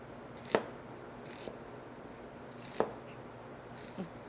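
A knife slices through an onion on a cutting board during julienne cuts, giving four sparse, crisp knocks spaced about a second apart against a quiet kitchen background.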